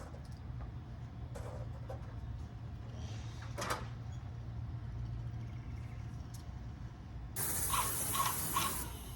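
A sharp hissing burst from a paint sprayer starts near the end, loud and close, after quieter scrapes and clicks over a low background hum, while painting a house.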